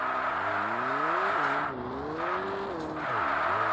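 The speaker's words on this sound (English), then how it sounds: "Before the corner, turn hard into it and give the handbrake a quick pull." A rally car in Richard Burns Rally slides through a handbrake turn on gravel, its engine note rising and falling steadily while a scraping skid hisses underneath, close and continuous with no talk.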